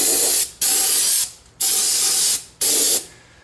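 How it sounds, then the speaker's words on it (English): Brake cleaner aerosol sprayed into the drum brake of a 2001 Honda Odyssey, three loud sustained hissing bursts, each about a second long and separated by short pauses, close by with no talk. "which I'm now going to rinse out with the brake clean."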